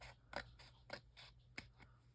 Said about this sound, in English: I'm going to trim just a wee bit there.